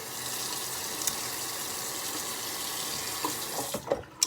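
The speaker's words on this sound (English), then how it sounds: "it's literally just running the rag under the hot water" Hot water runs steadily from a sink tap over a rag, a close continuous splashing rush with a few soft knocks and splatters toward the end.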